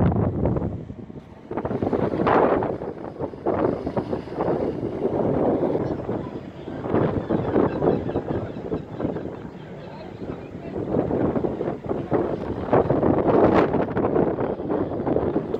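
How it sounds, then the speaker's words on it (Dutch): Wind buffets the microphone at a harbour in IJmuiden during sea fishing, loud gusty rumbling rising and falling throughout, with faint water and boat sounds beneath. "Het waait wel een beetje."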